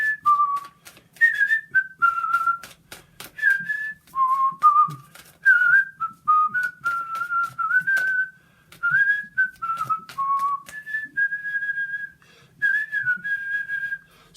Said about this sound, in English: you whistle while you work